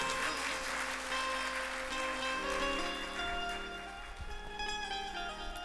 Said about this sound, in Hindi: तो आपने कुछ ताली जोर से ज्यादा नहीं बजा दी क्या?